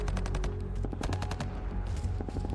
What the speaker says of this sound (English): Automatic fire opened from concealed positions on both sides of the road